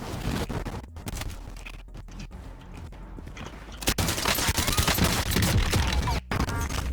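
Gunfire from the video game Warzone: dense bursts of shots and rapid firing, loud and continuous, with brief gaps between volleys.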